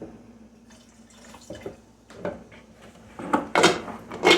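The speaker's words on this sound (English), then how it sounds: "that lemon juice toss right on in" Lemon juice poured into a batch of dragon's blood mead lands as sparse drips and splashes that build into louder, closer gurgling pours toward the end, with no talking.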